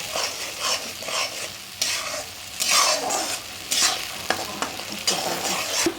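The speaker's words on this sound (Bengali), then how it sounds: "এখন আমি এই মশলাটাকে ভালো করে একটু ভেজে নিচ্ছি।" A paste of onion, ginger, garlic and green chili fries in a pan, sizzling up close in bursts as it is stirred and scraped, with no talking.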